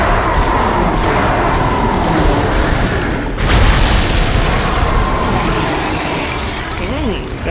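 In the Dead Space video game, a monster is shot with a series of booming, thudding blasts over dense game noise, one heavy hit standing out midway, while players talk over it.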